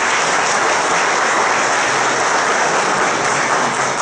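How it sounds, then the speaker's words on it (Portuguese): A council chamber audience applauds Miguel at a ceremony of honorary motions for military police officers, a dense, steady wash of many hands clapping at full volume for the whole stretch, with no voices above it. "uma grande salva de palmas para o Miguel"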